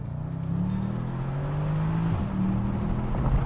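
The V8 of a Shelby GT350 accelerates on the road in sport mode, heard from inside the car as a steady low roar rising in pitch, easing briefly at a shift and climbing again.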